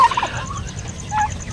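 A turkey gobbles twice, a rapid warbling burst at the start and another about a second later, fairly close and clear against quiet background noise.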